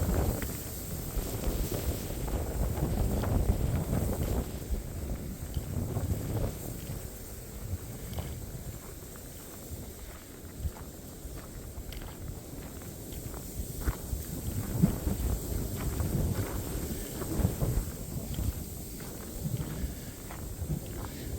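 Strong gusting wind of over 30 mph blows across a hill trail, rumbling into the microphone in continuous low buffeting. Faint footsteps crunch along beneath it.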